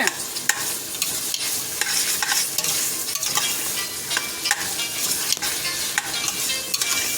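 Vegetable biryani ingredients, including tomatoes, frying in a pan as they are stirred and mixed, with steady loud sizzling and repeated scraping strokes throughout.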